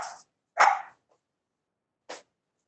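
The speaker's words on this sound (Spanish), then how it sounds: "Se escucha un ruido de ladridos." A dog barks over a video call microphone, giving two quick barks close together and then a single short bark after a pause, all fairly faint and slightly clipped.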